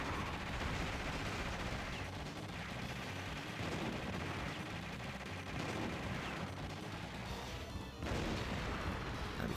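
Heavy machine gun fire in the video game Metal Slug, continuous rapid bursts mixed with crashing impacts and explosions, loud and dense throughout.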